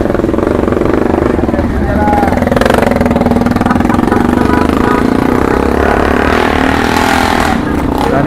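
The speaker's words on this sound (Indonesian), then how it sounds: "ini motor terakhir rombongan dari grup Honda Lansir Nagari Binjai" A motorcycle engine drones steadily for the whole stretch as the last bike of a Honda riders' club convoy rolls past on a road trip, loud and continuous with voices talking over it.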